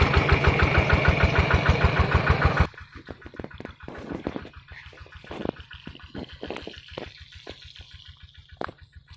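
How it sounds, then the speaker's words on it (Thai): An engine driving a groundwater pump for a sweet corn field runs at idle, loud and close at first, then a quieter steady chugging rhythm with scattered clicks and knocks. "เดี๋ยวติดเครื่องก่อนนะครับ เครื่องทำงานแล้วครับ"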